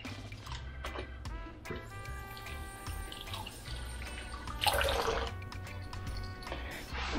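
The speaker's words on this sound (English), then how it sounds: "So wash my hand off again in the bleach water." Hands washed in a sink of bleach water in a home kitchen while making Jamaican curry chicken, with steady splashing, dripping and trickling close by, a few faint clinks, and a brief louder swish of water near the end.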